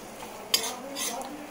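Tomato dropped into spices frying in a pan for a spicy Bengali small-fish curry, with a sharp clatter of the spoon against the pan followed by a soft sizzle and stirring.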